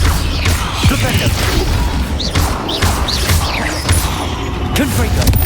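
A Flipendo spell goes off in a Harry Potter video game, a busy run of whooshing, crashing magical impacts with sharp bursts spread across several seconds, loud and close over a dense game soundtrack.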